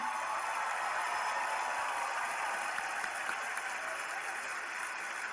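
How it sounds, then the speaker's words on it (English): Steady audience applause fills a pageant hall during a live beauty contest, a dense, continuous wash of clapping held at an even level throughout, with no voices standing out. "Please, everyone, give her a big round of applause because she came all the way from Colombia."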